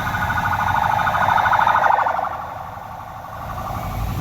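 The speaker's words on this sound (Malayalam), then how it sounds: "ആംബുലൻസ് വരുന്നുണ്ട് ചീറിപ്പാങ്ങി" An ambulance siren wails, rising and falling steadily as it approaches over constant traffic rumble on the NH 66 highway near Aluva, loud and close, continuing for several seconds.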